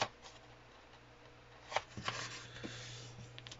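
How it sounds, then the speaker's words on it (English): Square of paper folded diagonally for an origami candy box, a few soft close crinkles and creasing rustles over a quiet low hum, with no voice. "Fold it diagonally."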